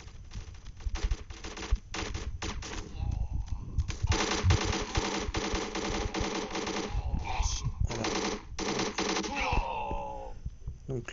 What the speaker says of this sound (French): on commence avec cette arme là qui est très bien, qui est peut-être le fusil d'assaut le plus puissant du jeu